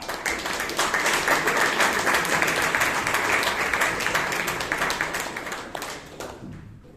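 A Toastmasters club meeting bursts into a huge round of applause welcoming the next role holder, with thick, continuous clapping from a crowd that stays loud, then tapers off and dies away near the end.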